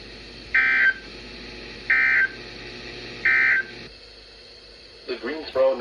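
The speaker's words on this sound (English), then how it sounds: "the National Weather Service has just activated the public warning alarm tone in the test" A weather radio sounds its public warning alarm tone during a National Weather Service test: three loud, steady beeps about a second apart over a faint broadcast hum, followed by a voice.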